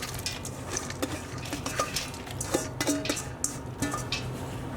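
Soaked whole wheat tipped into a pot with diced brown onion, with clinks and scrapes of a metal utensil against the pan and soft shuffling of wet grains, close and fairly quiet.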